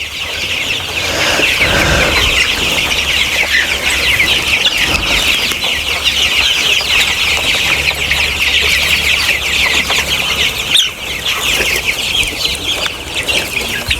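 Sonali chickens in a poultry farm cluck and chatter continuously as a dense flock close by, with occasional wing flaps and shuffles and no talk.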